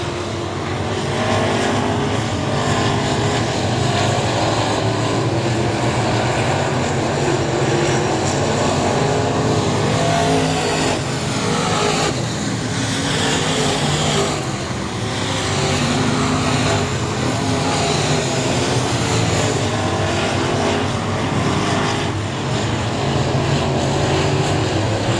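Race cars roar around the oval at Texana Raceway Park in the final laps, a dense, continuous engine drone that stays loud throughout, with surges as cars pass near.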